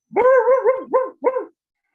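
A voice imitates a coyote barking like a dog, giving a drawn-out wavering howl-like bark followed by two short yelps, close and clear with no other sound.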